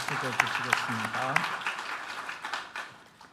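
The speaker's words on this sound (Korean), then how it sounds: "우리 박수로 환영하겠습니다." A church congregation claps to welcome a new organist, a brief burst of applause blending with a voice that fades out toward the end.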